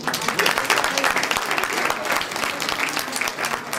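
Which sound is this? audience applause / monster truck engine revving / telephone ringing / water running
audience applause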